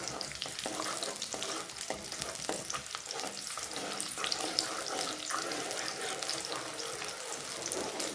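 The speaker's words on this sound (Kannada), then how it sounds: "ಈರುಳ್ಳಿ ಫ್ರೈ ಆಗಬೇಕು" Onions fry in oil for a dhaba-style chicken sukka, a steady close sizzle broken by frequent clattering stirs and scrapes, with a watery, splashy edge and no talk.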